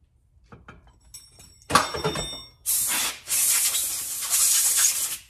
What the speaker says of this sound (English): always blow them off with air, that way you don't have any issues.